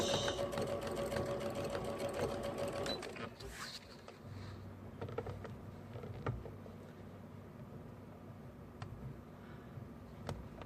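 A sewing machine runs steadily while stitching a quilt top in the ditch, a loud continuous mechanical whir that stops after about three seconds, leaving faint ticks and handling noises.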